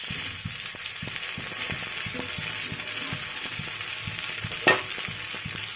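Pieces of chicken 65 fry in hot oil with a steady, dense sizzle and crackle, close and continuous, with a brief louder spurt near the end.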